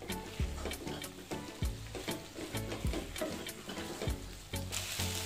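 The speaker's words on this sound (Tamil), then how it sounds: "சேர்த்து நல்லா கலந்து விட்டுக்கோங்க" Soya chunks coated in yogurt masala are stirred in a pan, giving a steady sizzle broken by regular scraping strokes of a spoon about once a second, close and moderately loud, with no talk.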